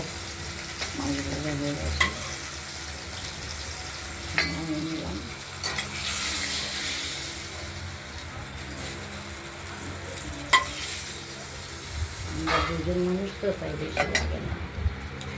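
Katla fish frying in oil in a pan, a steady sizzle broken by metal spatula scrapes and clinks of turning and lifting pieces, with a voice talking at intervals.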